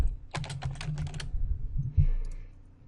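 Quick bursts of typing on a computer keyboard, a dense run of close, crisp keystrokes followed by a few lighter, scattered clicks over a low background hum, with no talking.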